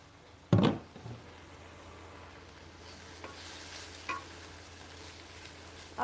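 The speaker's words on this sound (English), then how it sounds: "so while those are sauteing" Red onion and cabbage sautéing in a pan for a noodle-free pad Thai, a soft, steady sizzle with a sharp clatter of stirring near the start and a few lighter knocks later, with no talking.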